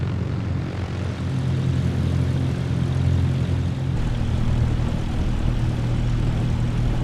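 Steady drone of an aircraft engine taxiing on the ground in Microsoft Flight Simulator 2024, departing Karlovy Vary in Czechia, with a constant low rumble and propeller hum heard alone and fairly loud throughout.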